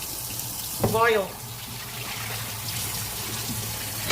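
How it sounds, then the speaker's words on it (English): A pot being washed under running water: a steady stream from the tap flows throughout, with a brief clattering splash near the start, as a man mutters a word of disgust. "Let's wash the pot."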